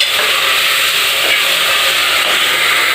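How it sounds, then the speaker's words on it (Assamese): Chicken biryani masala with Hyderabadi spice mix, salt and turmeric frying in a pan, a loud continuous hissing sizzle that holds steady throughout with faint stirring knocks. "এতিয়া ধুনীয়াকৈ গোটেইখিনি ভাজি আছে"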